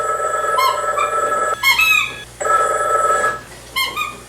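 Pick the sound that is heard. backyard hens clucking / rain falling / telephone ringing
telephone ringing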